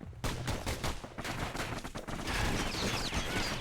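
Rapid enemy gunfire in the Bastion game rattles in dense bursts of quick shots, loud and continuous over swelling background game sound.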